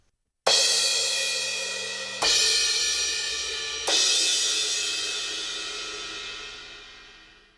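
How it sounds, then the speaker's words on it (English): Crash cymbals struck with the shoulder of a drumstick, three separate hits spaced a couple of seconds apart, each a full bright wash ringing close and loud, decaying slowly with no talk. "I'll hit each cymbal so you get an idea."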